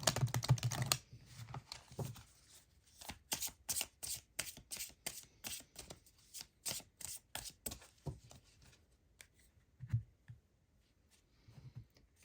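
Shamanic Healing Oracle cards being shuffled and drawn during a tarot card reading: close, crisp bursts of riffling and flicking in quick clustered rhythm, pausing briefly between cards, with no talking.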